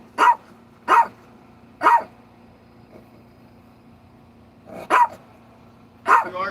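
A dog barks in short single yaps, five close, fairly loud barks spaced about a second apart with a pause in the middle, indoors with no talking.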